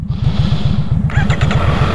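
A Triumph Street Triple 765 RS motorcycle engine idles close by with a loud, steady, pulsing throb, while a voice speaks briefly over it partway through.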